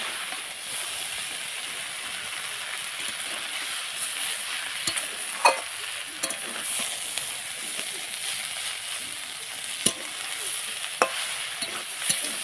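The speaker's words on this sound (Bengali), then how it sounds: "এবার এটাকে ভালো করে নেড়ে নেব।" Chow mein made from flour being stirred while it fries in a pan, a continuous soft sizzle with occasional sharp clicks of the utensil against the pan.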